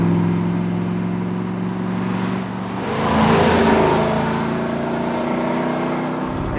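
A 1968 Chevy Nova SS, a bench-seat four-speed car, revs its engine in a loud, close, rising surge that peaks midway before settling back to a steady rumble.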